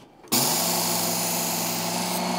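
A belt knife sharpener with a coarse red belt starts up abruptly and runs at a steady, loud, close motor whine with a rough abrasive hiss.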